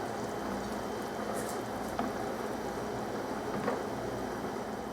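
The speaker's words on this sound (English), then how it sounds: "we're going to just let it simmer for about 10 minutes" Sausage fajita pasta sauce simmers in a pot with a soft, continuous bubbling and faint pops, low and steady throughout, with no talking.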